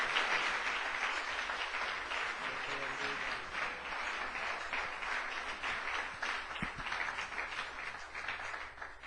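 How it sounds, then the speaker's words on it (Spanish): Sustained, steady applause from a church congregation welcoming Dr. Luis Rodriguez at an evening preaching service, a dense continuous wash of clapping that holds evenly for nine seconds without pause. "Vamos a recibir a Luis con un fuerte aplauso."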